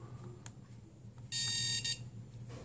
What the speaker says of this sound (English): Right now I have it set on the buzzer. It just makes like alarm noise.